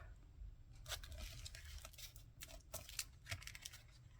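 Painted paper being folded in half and creased by hand, giving a series of crisp crinkling and rustling swipes over a low steady background hum.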